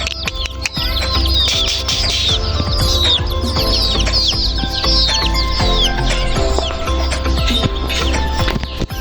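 A rooster near a rural pond bank clucks amid a dense chorus of chirping birds, with steady outdoor background noise running throughout.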